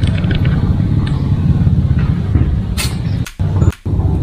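A motorcycle engine rumbles steadily nearby on a road, a continuous low drone with brief dips near the end.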